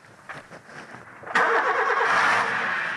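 A flood-damaged car, written off as technically beyond repair, cranks and its engine catches suddenly, then settles into a loud, steady running note after a quieter stretch of faint background sound.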